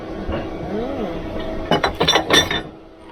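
A wrench works the lock nut on a sailboat's engine, giving a quick cluster of sharp metallic clinks and taps after a quieter stretch of low background noise.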